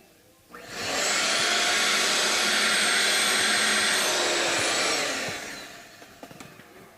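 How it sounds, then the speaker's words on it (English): A vacuum cleaner switches on and roars loudly and steadily for about four seconds while cleaning the fingerboard of a Martin HD-28 acoustic guitar, then winds down, followed by a few light clicks. "Let me vacuum it first."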